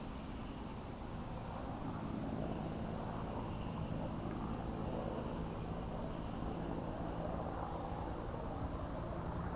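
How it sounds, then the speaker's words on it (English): A helicopter circles overhead as Space Shuttle Atlantis travels southbound on State Road 3 toward the Kennedy Space Center Visitor Complex, a steady, distant rotor and engine drone that holds at an even level throughout. "You can hear the helicopter flying around as Atlantis makes its way southbound on State Road 3."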